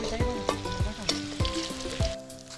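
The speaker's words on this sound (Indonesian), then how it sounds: "Tumis-tumis bawang merah dan putih." Shallots and garlic sizzle loudly in hot oil in a wok, with regular scraping stirs of the spatula punctuating the steady frying.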